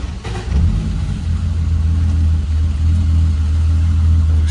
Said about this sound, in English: foot off the throttle, and crank.